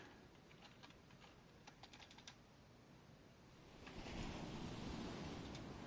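A computer keyboard is typed on during a Minecraft session, with soft, quick clicks in short bursts over a faint hiss that swells into a louder, rushing noise near the end.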